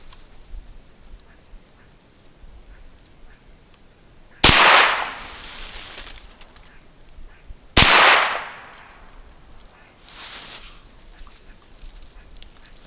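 Two sharp, loud gunshots from a Ruger Security 9 pistol, roughly three seconds apart, each with a decaying echo tail, over quiet outdoor background.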